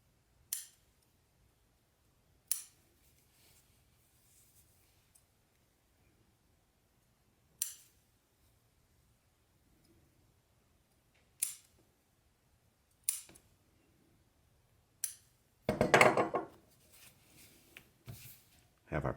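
Scissors cut through sheepskin as sharp, isolated snips spaced several seconds apart, followed by a denser burst of rustling handling, with long quiet gaps between the cuts.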